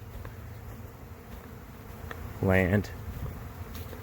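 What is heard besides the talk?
honey bee swarm buzzing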